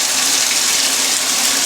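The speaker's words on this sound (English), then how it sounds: "we're going to test out the shower and see what the water's like" Hotel shower in The Mirage, Las Vegas, running hard: a loud, steady hiss of spraying water filling the space without a break.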